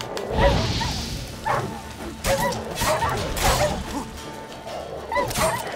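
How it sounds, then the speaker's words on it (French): Dogs barking in The Witcher 3 video game, a few sharp barks scattered over a noisy backdrop of game sounds and movement. "Ces chiens ne sont pas très contents."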